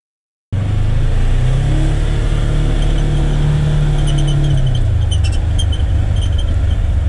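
Polaris Ranger XP1000 UTV fitted with a Hunterworks belt, its engine droning loud and steady while driving, the pitch holding then dropping as it slows under hard braking, with no talk.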